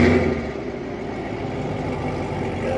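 A modified muscle car at a roll racing event, a 2018 Camaro ZL1 or 2020 Mustang GT500, rumbles at a deep idle with a slight rev, loud and close, no talk.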